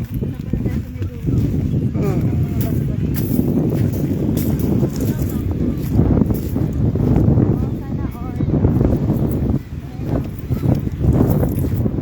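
Strong wind buffets the microphone at sea, with waves and water rushing around a boat in a steady, loud roar throughout, while people talk over it.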